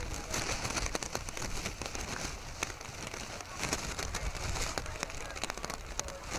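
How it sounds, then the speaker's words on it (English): Heavy rain falls hard on an outdoor high school football field during a game, a dense, continuous hiss of patter that stays fairly even throughout. "Rain's coming down again really hard."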